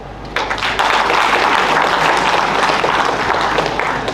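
A crowd applauding at a leadership summit at IIM Amritsar, a loud, dense wash of clapping that swells in quickly and holds steady for several seconds, filling the hall.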